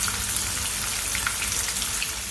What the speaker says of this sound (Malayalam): ഒരു മീഡിയം ഫ്ലെയിമിൽ വെച്ചിട്ട് ഒന്ന് ഫ്രൈ ചെയ്തെടുക്കുക.